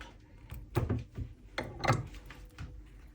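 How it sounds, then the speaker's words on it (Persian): A metal rivet is hammered into a hand-stitched leather key holder, producing two solid, close thumps among a few lighter knocks and taps. "پرچ رو از زیر کار میذاریم و به این صورت پرچ رو جایگذاری میکنیم و میزنیم."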